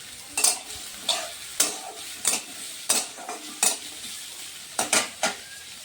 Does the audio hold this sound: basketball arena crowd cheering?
no